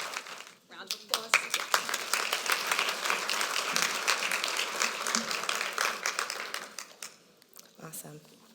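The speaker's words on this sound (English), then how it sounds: "Round of applause." Audience applause at a business association's public policy awards forum, a dense burst of many hands clapping that swells quickly, holds for several seconds and then thins out, with faint voices mixed in.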